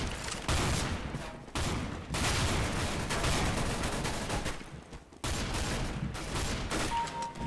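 Gunfire in Counter-Strike: Global Offensive rattles in dense, loud bursts of sustained automatic fire with two brief pauses, filling nearly the whole stretch without any talk.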